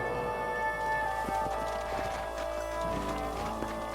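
Horses trotting in the Red Dead Redemption video game, a quick rhythmic clip-clop of hooves with an occasional whinny, over a continuous ambient tone and no talking.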